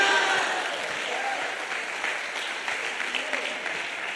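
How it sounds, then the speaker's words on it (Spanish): Congregation applauding at a Spanish-language church sermon, a dense, steady wash of clapping that fills the whole stretch at an even level, with no voices standing out. "Alguien diga aleluya, dale un aplauso."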